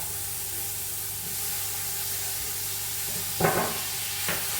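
Tomatoes tipped into a hot pan for a chapati curry give a soft, steady hiss and sizzle, with a couple of brief louder bursts near the end.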